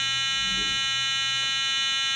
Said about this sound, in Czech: Melodie se mi spustila.